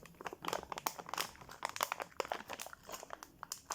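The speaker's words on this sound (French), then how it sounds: "Je vais déballer ça." An Arduino kit part is unwrapped from a plastic anti-static bag, giving a quiet, close run of irregular crinkling and crackling bursts with no talk.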